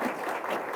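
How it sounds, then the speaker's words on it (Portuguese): A brief burst of applause from a crowd, dense clapping filling the moment without any talking. "Palmas para o Zé Tó"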